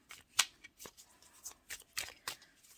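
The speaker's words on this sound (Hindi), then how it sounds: "फिर कार्ड्स निकालते हैं आप लोगों के ही सामने।" Tarot cards being shuffled and drawn from the deck, soft irregular flicks and slides up close, quiet with sharp little snaps between.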